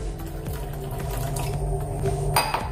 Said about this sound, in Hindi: थोड़ा सा और से पानी डाल देंगे हम,